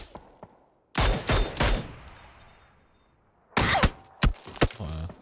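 Gunfire in PUBG during an esports match, two bursts of several rapid, loud close shots with quiet stretches between them, each burst trailing off with echoing tails.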